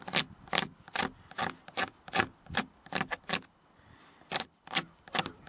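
Rhythmic scraping strokes as a guitar pick shaves curls from a piece of wood for fire tinder, about a dozen short rasping pulls at a steady pace, close and alone with a brief pause near the end.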